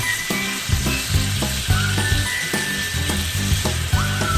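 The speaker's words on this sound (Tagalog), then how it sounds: "You can fry your chicken slightly." Chicken frying in a pan with olive oil and butter, a loud continuous sizzle broken by regular clattering strokes as the pieces are turned up and down.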